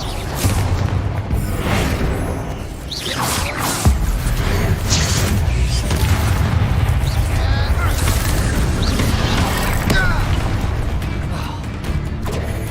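Bombarda spell explosions in Hogwarts Legacy boom and crash through a chaotic duel, loud bursts and pops over a dense battle mix with spell noises and shouted incantations.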